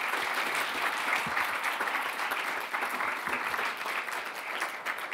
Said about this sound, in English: give another round of applause to Professor Logan